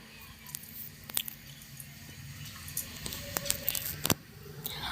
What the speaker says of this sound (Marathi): आपल्याला दोन पाण्याने ही डाळ पहिल्यांदी स्वच्छ धुवून घ्या